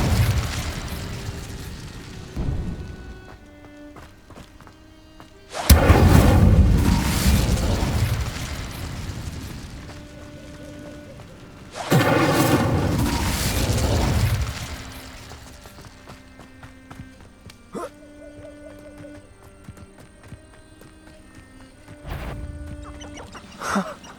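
A fire spell, Incendio, is cast in Hogwarts Legacy on PS5: two loud whooshing, roaring bursts of flame several seconds apart, each lasting a few seconds over a quiet ambient game background with faint tones.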